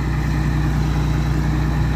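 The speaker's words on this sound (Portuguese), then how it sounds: "Foi buscar o outro trator, vamos ver se esse agora puxa." A tractor engine runs steadily at a constant low idle-like drone, close and loud, with no talk, as it gets ready to pull a stuck vehicle.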